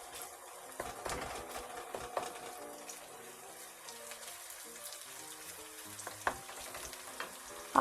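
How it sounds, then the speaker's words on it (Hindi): Asafoetida sizzles in very hot oil while Punjabi-style rajma is being cooked. The frying crackle is soft and continuous, close by and quiet, with scattered small pops and clicks. "तेज़ गरम तेल में डाल दो तो।"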